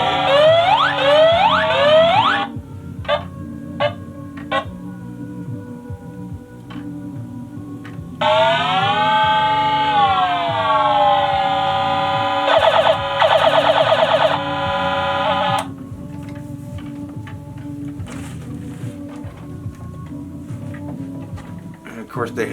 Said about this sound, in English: I'm sure many of you are familiar with the Starbird line and the interesting sounds that these made